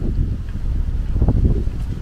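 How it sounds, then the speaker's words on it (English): Wind in East Legon, Accra, gusts against the microphone as a low, uneven rumble that swells and dips over the short stretch, with no voices. "The wind is very relaxing here."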